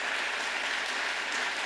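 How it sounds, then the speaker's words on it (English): Sustained applause from an award ceremony audience, a dense even wash of clapping that holds steady at full strength throughout with no voices. "please stand up for our applause"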